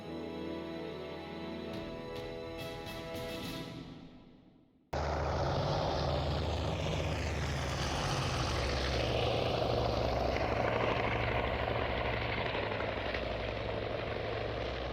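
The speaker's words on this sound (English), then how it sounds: "Up on deck, the escorting Wildcat fighters from Strike Package George are landing." Wildcat fighter planes landing on an aircraft carrier deck in the naval strategy game Task Force Admiral, propeller engine drone that fades out, then after a cut a loud steady roar of engines and wind continues.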